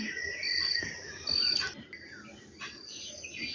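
High, thin chirps and trills come in short bursts over a quiet outdoor background, birds or insects calling nearby.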